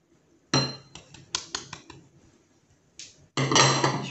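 A spoon or whisk clinks and taps against a bowl while butter and powdered sugar are mixed for a chocolate apple almond tart: bursts of sharp clinks and scraping with short pauses, close and fairly loud.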